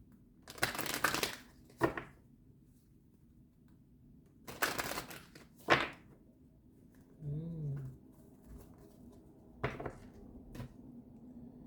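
Tarot cards being shuffled in short bursts, with several crisp riffling flurries separated by quiet pauses and a faint low murmur in the background.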